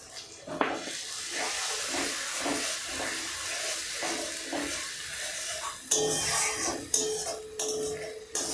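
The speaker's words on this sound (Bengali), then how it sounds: "পেস্ট বাটার যে বাটি, সেই বাটিতে আমি একটু সামান্য জল নিয়ে ধুয়ে নিয়েছি এবং সেই জলটি আমি দিয়ে দিলাম।" Water poured into a hot pan holding chilli-ginger-garlic paste for a Bengali chicken kosha, giving a steady close hiss of steam and sizzle with scattered utensil clinks and a few sharper bursts toward the end.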